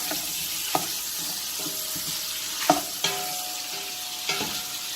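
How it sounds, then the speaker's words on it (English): Meat browning in a pan for a homemade tomato meat sauce, with a steady loud sizzle and frying crackle throughout, broken by a few sharp clinks and scrapes of stirring, no voices. "Let that cook up. And brown that up as well."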